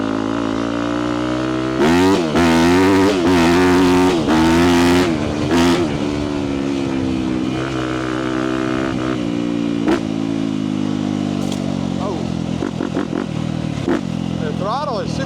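A 2017 Yamaha YZ250F dirt bike pulls hard in second gear, its close engine note climbing through sharp revving rises and snappy throttle blips, then settling into a lower steady drone with a few short bursts.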